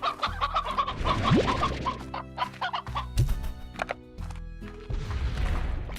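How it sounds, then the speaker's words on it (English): Hens cluck repeatedly in short, choppy bursts over a steady synthetic background, with a few sharp clicks and game-like sound effects between them, in the video game Slime Rancher. "My next purchase was another chicken coop, so I could raise briar hens in one and stony hens in the other."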